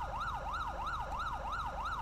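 A Queensland police siren on a Hyundai iLoad van in GTA5 LSPDFR, a steady rapid wail rising and falling in regular sweeps, loud and continuous with no talking.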